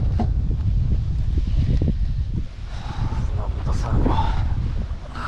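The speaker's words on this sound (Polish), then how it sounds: "cholerny wiatr." Low, rumbling wind buffets the microphone in heavy gusts while riding a Bajaj Pulsar NS125 motorcycle, easing briefly midway before picking up again.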